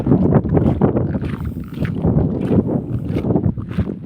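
Strong gusty wind buffeting the microphone, rumbling and roaring unevenly throughout with no voices.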